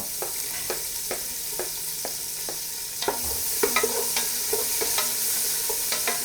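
Onions stirred in hot ghee and sunflower oil for a biryani base, a steady soft sizzle under repeated crisp scraping strokes of a spoon against the pan, close and fairly loud throughout.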